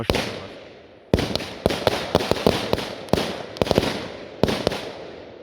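A rifle-type firework battery fires a rapid series of sharp cracking shots, about a dozen loud bursts in irregular clusters over a crackling outdoor background at dusk.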